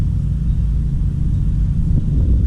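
A Ford 6.7-liter Powerstroke diesel truck engine idles steadily in the background, a continuous low rumble with no speech over it.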